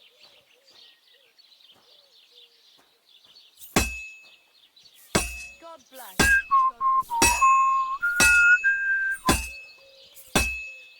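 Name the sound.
hammer striking a heated sword on an anvil, Kingdom Come Deliverance 2 video game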